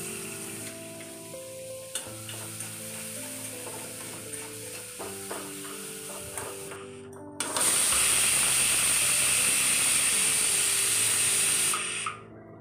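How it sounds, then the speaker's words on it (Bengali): Chopped onions drop into a hot pan that still holds fried dried fish, and a loud bright sizzle bursts out and holds steady for several seconds before cutting off. Softer sizzling and clinks of stirring come before it. "তারপরে এখানে আমি দিয়ে দিচ্ছি পেঁয়াজ কুচি।"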